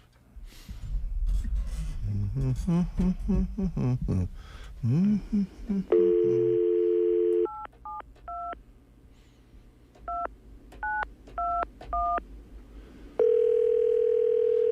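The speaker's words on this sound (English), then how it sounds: "Going to make a call, are you?" A telephone dial tone plays, then a series of short DTMF keypad beeps as a number is entered, and then the steady tone returns. Someone talks briefly before it starts.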